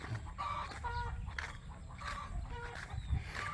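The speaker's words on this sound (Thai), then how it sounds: "ทั้งไก่ทั้งงัวครับกระตากกระตากครับ" Hens clucking in short repeated bursts against a steady outdoor background, with a few louder calls near the end.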